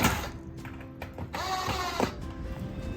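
Hinges being fastened onto a folding wooden compost bin, giving short, close clicking and ratcheting bursts, a few quick mechanical turns separated by brief pauses, with no voices.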